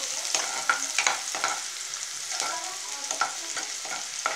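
Onion and curry leaves sautéing in a pan, a steady close sizzle broken by repeated scraping stir strokes at an uneven rhythm, with no voices.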